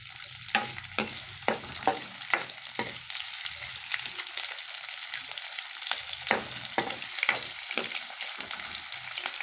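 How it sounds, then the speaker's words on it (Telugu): Onions fry in hot oil with a steady sizzle, punctuated by repeated sharp scrapes of stirring in quick bursts, close and moderately loud. "ఉల్లిపాయ బాగా ఎర్రగా మగ్గే వరకు వేపుకోవాలి"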